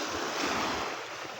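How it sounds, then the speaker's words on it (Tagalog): Sea waves wash steadily onto a beachfront lot with clear, swimmable water and small boats nearby, a continuous broadband surf roar with some wind buffeting the microphone, no voices. "ito po yung dagat niya"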